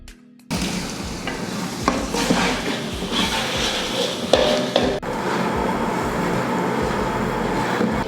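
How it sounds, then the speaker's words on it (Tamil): Sautéing of a kilo of tomatoes with onions and biryani masala in a large pot for a full-chicken biryani, a steady broad sizzle with scraping stir strokes running throughout, fairly close and alone. "அடுத்து தக்காளி ஓரளவுக்கு நல்லா வதங்கிடுச்சு."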